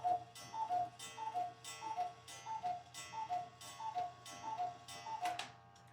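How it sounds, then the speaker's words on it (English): A cuckoo clock sounding indoors: about eight evenly spaced two-note calls, each with a crisp tick, repeating at a steady rhythm over a faint room hum, with no talking. "Pardon my cuckoo clock."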